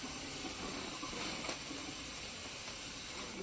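Hot pepper seeds being rinsed under a kitchen sink tap, a steady hissing rush of running water that stays even and unbroken, faint and close.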